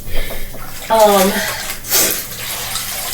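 Hot water pours with a short bubbling, gurgling stream for coffee, loud and close, while someone talks over it.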